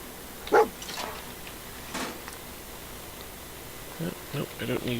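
A dog in Fallout 4 gives a sharp bark near the start, then softer barks and growly yelps follow later under a steady buzzing background.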